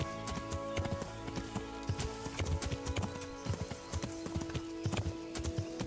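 Horse hooves clip-clop at a steady, brisk pace in Kingdom Come: Deliverance, sharp repeated hoofbeats close and prominent over a bed of ambient music and noise, with no talking.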